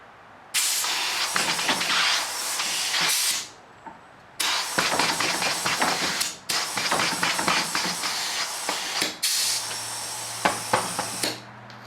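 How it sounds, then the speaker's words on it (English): An air compressor blasts air into a tubeless bicycle tire in several loud, close bursts of hissing rush separated by short pauses, ending with a low steady hum under the hiss. "I'm going to hit it with the air compressor."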